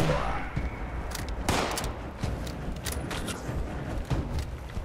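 Rapid bursts of gunfire from a firefight in the video game Fallout 76, sharp shots repeating irregularly over a dense, loud battle din, with brief voice sounds in the mix.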